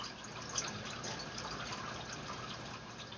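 Water flowing and splashing in a homemade garden fountain, a faint, continuous gushing trickle heard alone without talk.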